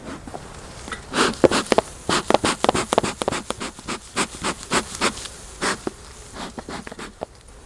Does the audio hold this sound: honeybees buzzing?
yes